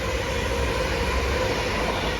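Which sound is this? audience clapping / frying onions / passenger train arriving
passenger train arriving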